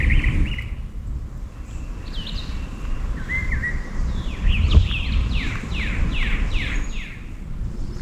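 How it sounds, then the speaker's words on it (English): Several birds chirp and trill in short bursts over steady wind noise in a Tallahassee, Florida state park garden, including a quick run of repeated descending calls near the end. "I hear birds mostly"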